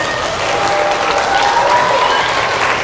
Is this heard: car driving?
no